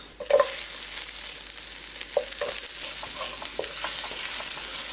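Onions sizzle in a small pot while cooking Filipino menudo, a continuous close frying hiss broken by a few stirring knocks and scrapes.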